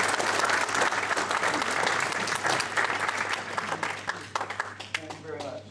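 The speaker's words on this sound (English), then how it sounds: "I just want a round of applause for the crew" An audience applauds the canoe crew at a symposium presentation, sustained loud clapping that tapers off toward the end, with a voice speaking over it.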